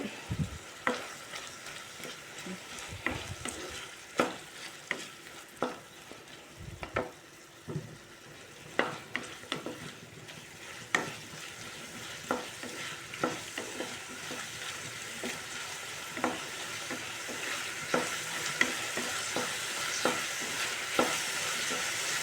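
Green chillies frying in a pan for a coriander mint chutney, a soft continuous sizzle broken by repeated sharp scrapes and taps of stirring, spaced irregularly and growing busier toward the end.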